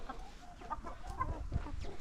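Chickens cluck on a poultry farm kept at about one rooster to nine hens, soft overlapping calls from several birds close by in a steady low murmur.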